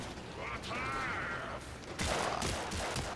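Vectis rifle gunfire in the video game Warframe, a sharp burst of shots with mechanical clacks and a ringing tail, followed by a louder crack and rattling action noises.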